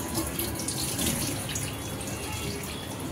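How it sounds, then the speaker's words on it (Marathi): Pomfret fish rinsed under a running kitchen tap: a steady, close splashing stream of water that never lets up, with no talking. "तर पॉपलेट आपण चांगली स्वच्छ धुवून घ्यायचे।"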